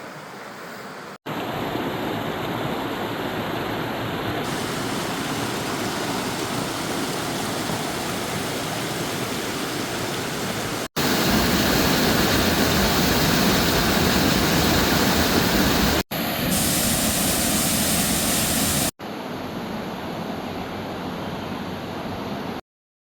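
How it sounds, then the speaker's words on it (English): Waterfalls on the Amnicon River at Amnicon Falls State Park roar with a steady, loud, full rushing wash of water, heard close in several cut segments with no talking. "The waterfalls are awesome."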